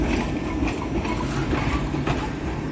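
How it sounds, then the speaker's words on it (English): A SEPTA trolley comes along the tracks at a street-level stop, a continuous rumbling roll with faint rhythmic rail clatter, fairly loud and steady. "It's a trolley coming up, I think."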